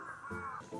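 A single crow caws once at a Tokyo shrine, a short harsh call heard fairly faintly over quiet outdoor ambience.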